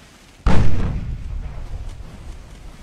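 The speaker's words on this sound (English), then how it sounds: "She's about to launch torpedoes." A warship fires torpedoes in the naval video game Ultimate Admiral: Dreadnoughts: one sudden heavy boom that rumbles and slowly fades over a couple of seconds.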